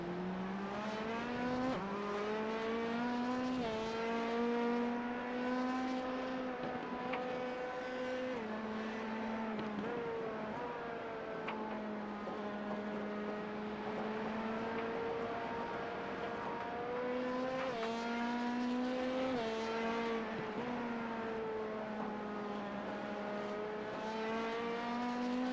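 A Dallara P217 prototype race car in the iRacing simulator at Le Mans, its engine droning loud and continuous from the cockpit, with the pitch rising through the gears and dipping on lifts and downshifts.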